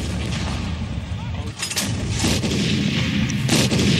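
Bombing and artillery fire over Raqqa, Syria, with a dense rumbling din and repeated heavy booms and blasts that go on steadily without a break.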